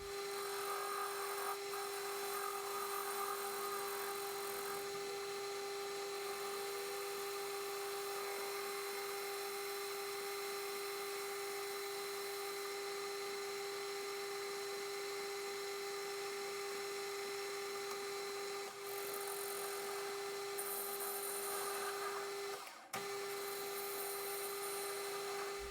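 A Sheridan lathe runs steadily while tapping an Acme thread for a leadscrew, a constant high-pitched whine with a low hum, fairly faint, with a sharp knock near the end.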